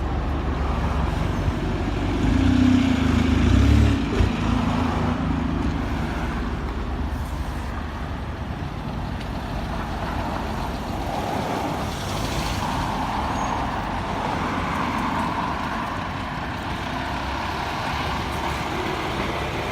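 A bus pulls up at a roadside stop opposite a driveway, briefly idles with a low rumble and a hiss of air brakes, then pulls away amid steady traffic noise on Widmore Road.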